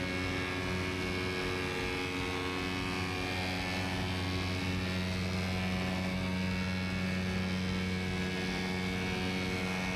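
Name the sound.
paramotor engine running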